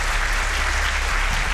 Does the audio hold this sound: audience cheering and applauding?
yes